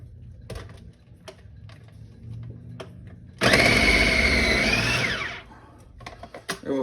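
A food processor shreds red cabbage, starting abruptly with a loud whirring, grinding motor roar for about two seconds, then cutting off. Quieter kitchen clatter and taps come before and after.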